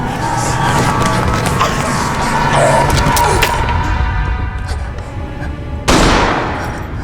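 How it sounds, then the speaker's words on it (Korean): Dense bursts of film gunfire in a theater crackle over a noisy, chaotic background, ending in a sharp loud blast near the end. "총소리를 들은 제스가 황급히 극장으로 가보는데 그렉이 총에 맞아 쓰러져 있었죠."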